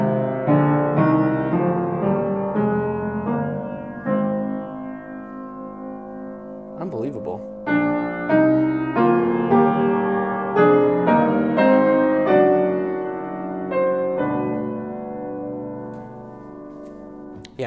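A C. Bechstein Concert 8 upright piano plays a series of thirds, clear ringing two-note intervals struck in steady succession with rich sustain, solo and close, moving across the range including lower notes.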